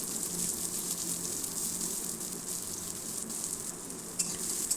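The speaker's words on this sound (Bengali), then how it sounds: "এবার আমি পেঁয়াজগুলো দিয়ে দিচ্ছি।" Onions frying in hot oil in a kadai, a steady soft close sizzle with a few small pops and faint stirring, without any talk.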